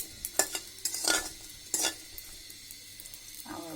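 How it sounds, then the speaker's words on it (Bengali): Dried taki fish frying in a pan, a soft sizzle with a few scraping stirs and utensil clatters early on, fading to a quieter hiss near the end. "আমি 2 মিনিট সময় ধরে টাকি মাছটাকে ভাজি করলাম।"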